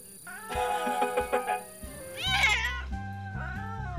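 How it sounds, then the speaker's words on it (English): A cartoon cat meows loudly in a run of bright, wavering cries with a brief caterwauling squeal in the middle, clear and close, backed by a music-like tonal bed. "A wild cat?"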